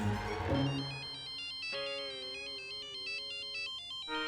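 A phone ringtone chimes in a home setting, a short sweep followed by a steady repeating electronic melody of bright tones that plays alone at moderate loudness.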